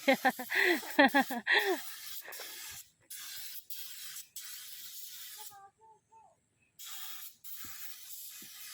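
A sprayer hisses in repeated short bursts with pauses between, close by, as someone sprays high areas from scaffolding; voices are heard at the start.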